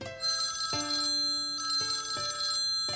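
A phone rings with an incoming call, an electronic tonal ringtone repeating in a steady pattern of bursts, close and clear with no talking.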